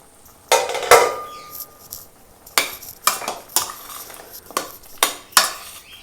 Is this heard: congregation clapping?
no